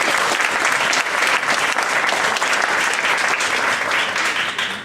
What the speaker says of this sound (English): Let's give a huge round of applause for Harshit.